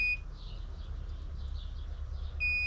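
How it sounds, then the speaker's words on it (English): Fat tire e-bike motor controller sounding an error alert: a steady, near electronic beep-beep-beep pattern with faint tones at the start and end, over a low hum. "now it just does the old beep beep beep trick."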